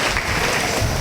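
A church congregation claps loudly in praise of God, a thick continuous burst of hand claps close and full, with no talking over it.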